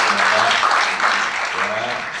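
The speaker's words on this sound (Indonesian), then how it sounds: "Boleh tepuk tangan buat Tuhan Yesus." A church congregation claps for Jesus, a short burst of steady, moderately loud applause filling the hall, with a voice faintly audible underneath.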